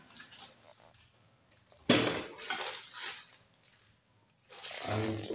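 Steel bowls, containers and a ladle from a kitchen utensil set are handled, giving quiet metallic clinks and clatters in a few separate bursts with pauses between them.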